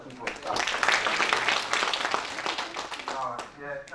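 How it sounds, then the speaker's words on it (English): Audience at a civic dialogue event claps for the chief of staff in a rising, sustained round of applause that fades after a few seconds, with a voice speaking over the end. "A round of applause there for our Chief of Staff."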